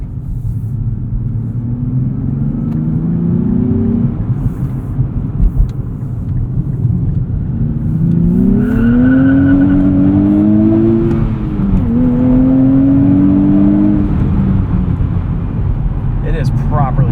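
A 2023 Nissan Z Performance engine climbs through rising revs as the car accelerates, a loud close cabin drone sweeping upward in pitch across gear changes, with a voice speaking over it.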